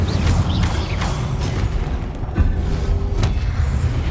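An Incendio fire spell cast in Hogwarts Legacy, a loud rushing whoosh with crackling bursts and mechanical creaks in a dense, continuous game mix.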